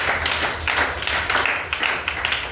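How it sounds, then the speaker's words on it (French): Church congregation applauding the Lord at a French-language evangelical service, steady scattered hand claps in uneven bursts, fairly close and moderately loud, with no talk over them. "Acclame encore pour le Seigneur."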